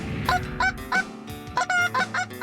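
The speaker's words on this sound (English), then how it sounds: "we're pulling out all the tricks to lure in the birds on this foggy morning goose hunt in Kent County, Maryland" Geese honk repeatedly on a foggy morning goose hunt in Kent County, Maryland, a series of bright, nasal calls in uneven bursts, fairly close and clear with no talking.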